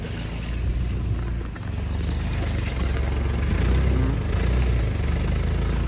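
A vehicle in two-wheel drive on a dirt track with tyres that are poor for off-road use, its wheels slipping and spinning in a loud continuous low rumble with wind noise on the microphone, no voices.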